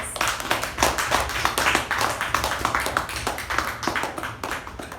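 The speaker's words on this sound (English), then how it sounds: "Please help me welcome our President Toastmaster Gaurav with a huge round of applause" Applause at a Toastmasters club meeting welcoming its president, many hands clapping in a steady, rapid patter that stays fairly loud throughout, with no talking.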